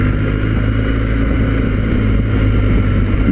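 A BMW R 1250 GS motorcycle engine drones steadily while riding, a loud continuous low rumble mixed with wind noise and no talk.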